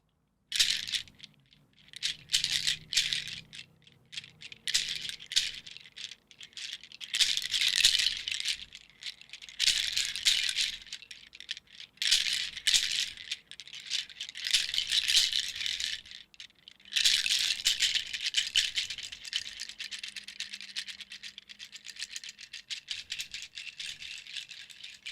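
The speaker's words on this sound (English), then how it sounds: "These shells are used to clear space, to clean chakras, to ground." Shells used for sound healing are shaken in repeated bursts, giving dry, bright clattering rattles that swell and pause over about twenty-five seconds, close and fairly quiet.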